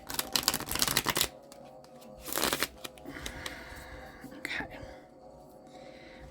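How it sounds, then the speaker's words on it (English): A stiff deck of tarot cards shuffled close up: dense papery riffles and slides in short bursts, with a soft whispering voice between them. "The deck is really stiff today, which is weird. This deck usually shuffles very easily."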